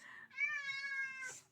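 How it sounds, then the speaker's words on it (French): A house cat lets out a single clear, drawn-out meow close by, rising then falling, in a quiet indoor setting with no talk. "Oh, le chat"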